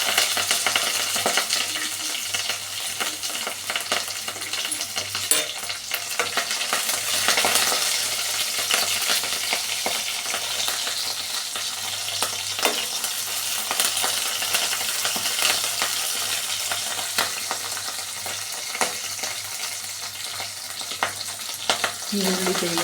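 Onion with garlic and curry leaves fries in a pan for a radish saaru, a continuous dense hissing sizzle with occasional light clinks and stirring taps, steady and close throughout with no voices.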